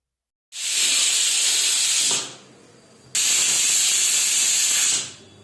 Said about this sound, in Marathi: कुकरच्या शिट्ट्या आपल्या झाल्यात